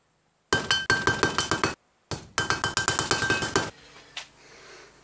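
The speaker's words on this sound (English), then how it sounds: "We're gonna punch them with numbering from obviously 1 to 15." Metal number punches are hammered into small metal poppy pieces, giving two runs of sharp, ringing metallic strikes in quick rhythm, loud and close, followed by quieter handling sounds.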